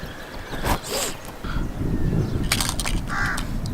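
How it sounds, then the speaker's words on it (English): A crow caws a few times outdoors in Dubai in the morning, fairly close, over steady wind and background rumble. "It's hard to find crows here in Dubai, but I could find 1 or 2 today."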